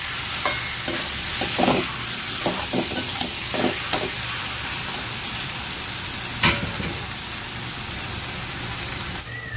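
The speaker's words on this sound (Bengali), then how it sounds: "চিকেনটা দিয়ে দিলাম, ভালো করে চিকেনটাকে কষে নিতে হবে।" Chicken pieces sautéed and stirred in a pan, a constant loud hissing fry beneath irregular spatula scrapes and taps against the metal, with no one speaking.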